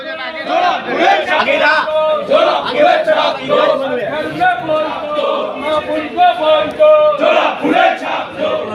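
A large crowd marches in an election campaign procession through a city ward, with many voices shouting and chanting slogans together, loud, close and continuous for the whole stretch.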